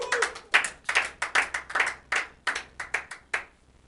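A church congregation claps loudly in a fairly steady rhythm during worship, about a dozen sharp, close hand claps with brief gaps between them and no talking.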